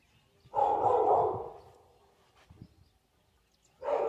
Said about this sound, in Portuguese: Quem tá latindo é o cachorro, o Vegas.